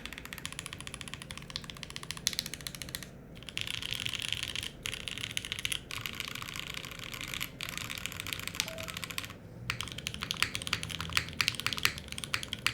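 Steady typing on a Mode SixtyFive mechanical keyboard in a top mount configuration with new switches, giving a close, even clatter of keystrokes that runs continuously with a few brief pauses.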